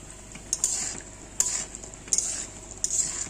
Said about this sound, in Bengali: বড়িটা ভেজে নেব, তারপর মাছ ভাজবো।